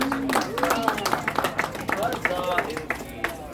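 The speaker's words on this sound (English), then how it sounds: "Give a round of applause to this wonderful person." An outdoor crowd at a Renaissance fair applauds a volunteer, brisk uneven clapping mixed with excited voices and cheering from people nearby.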